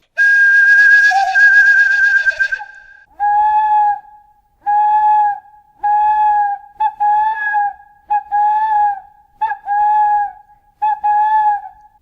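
Squeaks blown gently on the top section of a tin whistle: a long loud trilling tone, then about eight short, clean, high-pitched squeaks in a fairly even series, each clear and alone.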